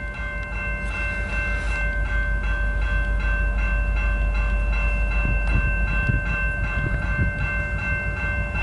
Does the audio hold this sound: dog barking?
no